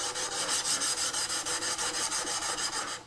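A chisel is rubbed back and forth on Shapton glass sharpening stones in steady, even rasping strokes, about a dozen quick repeated passes, close and fairly quiet, with no speech.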